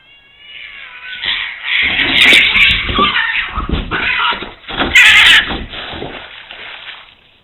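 A cat fight on a rooftop as a light-coloured intruder cat clashes with a resident cat: loud, close yowling and caterwauling that swells and surges, with two sharp screeching bursts.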